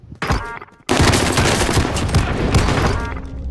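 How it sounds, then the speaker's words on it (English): A shotgun blasting in the game Call of Duty, one short burst followed by a brief gap, then dense, loud, continuous firing with repeated heavy booms over a noisy battle background. "I don't know what the fuck this shotgun is"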